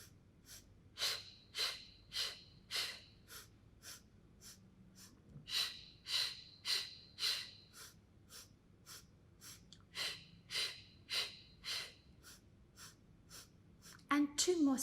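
Rhythmic breathing during a Pilates mat exercise with both legs lifted: sharp, breathy exhales repeat in quick clusters of several pulses each. The breaths are close and steady with short pauses between sets.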